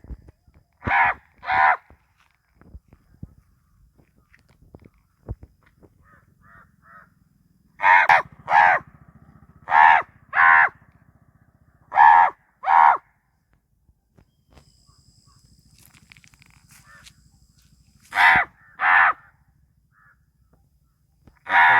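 A crow caws loudly and close by in short paired bursts, repeated several times with quiet gaps between them, against a faint low background hum.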